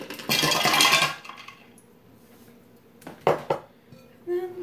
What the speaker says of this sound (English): So I'm gonna throw the ice in there.